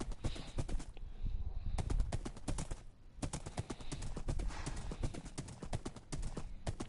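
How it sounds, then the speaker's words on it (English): Rapid, rhythmic hoofbeats of a galloping horse in Minecraft pound steadily throughout, loud and close, with a brief lull partway through before the gallop resumes. "I love this horse. It is so fast."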